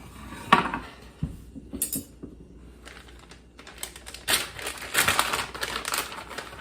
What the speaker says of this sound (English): Now we can chop some of these nuts to put on the top.